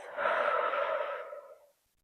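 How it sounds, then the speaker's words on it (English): A single long, breathy exhale through the mouth during a gentle prenatal yoga session, close and steady before fading to silence. "Exhale out the mouth"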